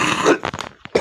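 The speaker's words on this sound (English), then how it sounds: "excuse my coughing" A man's sudden cough, rough and throaty like clearing the throat, sounds as a few short, close bursts separated by brief gaps.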